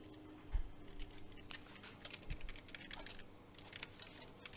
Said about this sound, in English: type whatever you want.